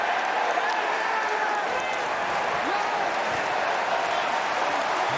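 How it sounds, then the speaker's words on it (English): Rugby fans at Ashton Gate in Bristol, during a Bristol v Exeter match, break into sustained, dense applause that fills the whole stretch evenly. "And Fitzharding leads the applause, and spontaneous applause around Ashton Gate for for that defensive effort."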